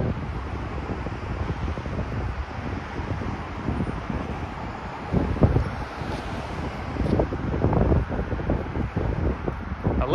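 Strong night wind buffets the microphone by the Brooklyn Bridge, a low, rumbling roar with gusty surges that swell louder in the second half, continuous and close.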